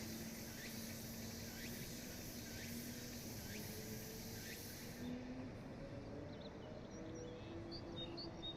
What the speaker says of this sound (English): Hear the crickets and stuff and the frogs at the pond.